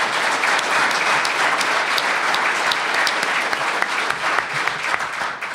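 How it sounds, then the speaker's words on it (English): A crowd applauds steadily, dense clapping filling the whole stretch at an even, loud level without letting up. "the team that did it deserves a round of applause"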